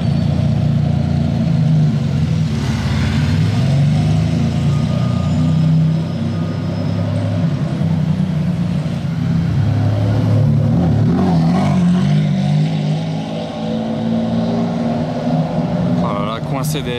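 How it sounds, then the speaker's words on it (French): A garbage truck rumbles past in a busy street, with a heavy low engine drone, hissing air brakes and reversing beeps, close and steady under ongoing background talk. "le camion de poubelle"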